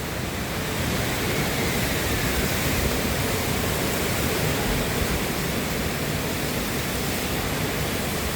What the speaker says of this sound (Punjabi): ਹਵਾ ਆਵਾਜ਼ ਕਿੰਨੀ ਆ ਰਹੀ ਬਹੁਤ ਆਵਾਜ਼ ਆ ਰਹੀ